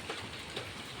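Steady rain falling after days of downpour outside a house, a dense close hiss with soft irregular patters and no voices.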